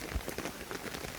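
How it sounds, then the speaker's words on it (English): Rain falling on a tarp shelter in New Zealand bush, soft patter of drops with a few sharper taps, faint and steady, no speech. "Oh, here comes the rain."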